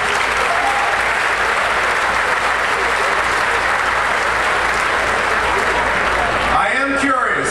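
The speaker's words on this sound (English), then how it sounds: "Let's give them a round of applause." Loud audience applause at a science museum's evening event, a dense continuous wash of clapping lasting several seconds, with a voice briefly breaking through near the end.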